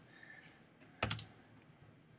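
A short flurry of computer keyboard typing during a coding class, a quick cluster of clicky keystrokes lasting about a quarter second, close and fairly loud against a quiet room.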